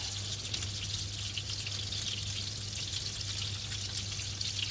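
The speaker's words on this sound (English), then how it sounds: "And a little more oil may be needed. So you might need to like shallow fry them a little bit." Meatballs shallow frying in oil in a pan, giving a steady, even crackle and hiss that runs unbroken and fairly soft, close by, with no talking.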